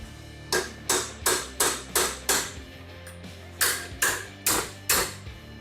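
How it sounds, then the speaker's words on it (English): A part being tightened in a bench vise on a 1974 Maverick interior job, with a loud, evenly spaced series of sharp clacks from the handle, about ten strokes, pausing briefly midway. "Scoot it up in the vise a little bit more, make it nice and tight."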